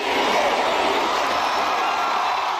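A massive crowd of about 90,000 fans roars and cheers continuously at Vijay's Jananayagan audio launch in Malaysia, a dense, loud, sustained wash of voices and whoops.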